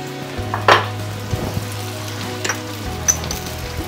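Vegetables cook on a hot tawa with a soft continuous sizzle, broken by a few louder spits and clatters of stirring, close by with no voices.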